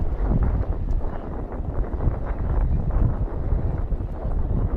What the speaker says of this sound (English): And the wind is picking up, much like that special weather bulletin warned us.